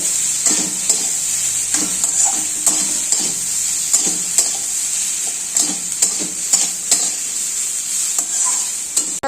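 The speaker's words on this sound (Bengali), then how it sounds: "হলুদটা দিয়ে আর একটু ভাজা ভাজা" Spices and turmeric sizzle steadily in a hot pan while a utensil stirs and scrapes at irregular moments, close and fairly loud.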